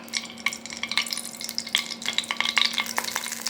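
Spices crackle and pop as they temper in a little ghee in a pan for Mysore rasam, a steady close sizzle broken by frequent sharp spattering bursts, with no voices.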